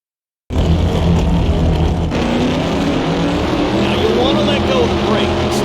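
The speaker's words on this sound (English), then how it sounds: "The first phase of drag racing is the burnout." A roaring drag racing engine holds a loud, steady burnout in the NHRA Championship Drag Racing video game, with a tonal whine rising and falling near the end over dense, continuous rumble.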